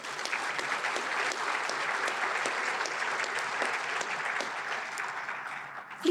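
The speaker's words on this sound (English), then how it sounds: "give another round of applause for the collective support of these three amazing community partners" Steady, sustained applause from a large audience at the MetroWest YMCA Marathon community breakfast fills the room evenly for several seconds before tapering off at the end.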